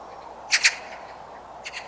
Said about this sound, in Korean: 저수지는 다양한 새들의 보금자리이기도 하다.